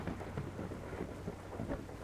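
Low rumbling thunder from lightning in the video game Devourer, faint and continuous with soft rain-like crackle, brief and without talk.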